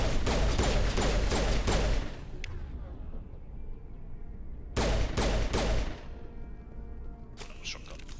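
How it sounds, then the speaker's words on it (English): A shotgun fired at husks in the Mass Effect video game, a rapid run of loud gunshots followed by a quieter stretch, then another cluster of blasts and mechanical clatter, with game sounds underneath. "Shotgun."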